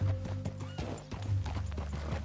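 Horse hooves clop steadily on a dirt path in Red Dead Redemption 2, with a brief whinny from the horse over the plodding rhythm and a low game-world background hum.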